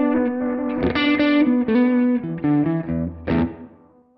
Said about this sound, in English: So we've got a small room reverb.